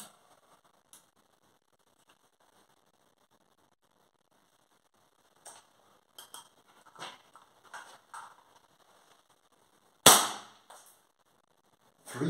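A WE Hi Capa Dragon 7-inch Type A airsoft pistol fired over a chronograph indoors, a few sharp, faint clicking pops spaced irregularly in near-silence, with one louder snappy shot near the end.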